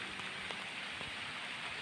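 Steady rain falling on a rice field near a house, a constant bright hiss with a few faint drop taps, no voices.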